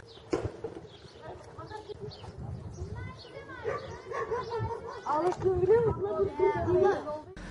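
Several stray dogs bark and yelp in a noisy outdoor scramble in a Turkish village street, overlapping and excited, as volunteers bring food, with people talking underneath and a high whine near the end.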